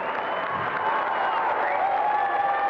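An audience at the Señorita México 1991 pageant applauds the newly crowned winner, a dense, steady wash of clapping with faint crowd cheering mixed in.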